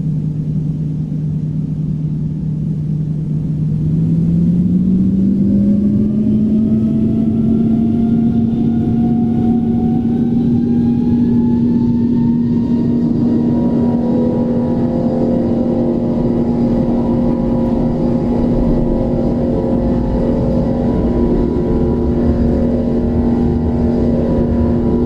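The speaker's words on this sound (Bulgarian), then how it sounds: "И сега, чуйте хубавия звук на този самолет." Finnair Airbus A350 airliner engines spooling up, a loud steady turbine drone whose pitch rises after a few seconds and holds as a strong sustained whine with rumbling underneath.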